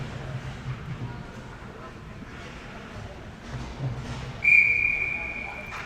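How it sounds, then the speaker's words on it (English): A referee's whistle blows at a college ice hockey game between Wake Forest and Duke, one sharp, fairly loud tone near the end, rising over arena crowd murmur and an announcer's commentary. "Whistle blown."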